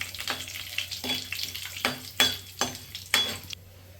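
Urad dal and green chili frying in a pan, with loud crackling bursts of sizzle recurring every half second or so over a quieter background hiss, close by.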